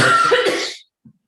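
A short burst of coughing and throat clearing up close during a council meeting call, fading out, then a brief faint rumble after a pause.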